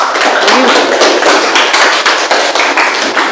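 A classroom of students claps together for a group after its presentation, a dense, loud patter of many hands with no talk over it.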